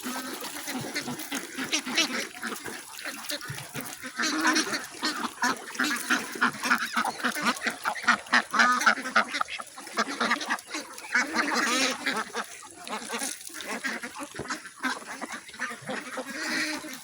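Farm ducks being fed a layer feed and bran mix quack and honk continuously, a noisy flock calling close by in overlapping bursts for the whole stretch, with faint voices underneath.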